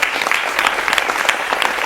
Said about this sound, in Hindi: उन सभी का स्वागत करेंगे तालियों के साथ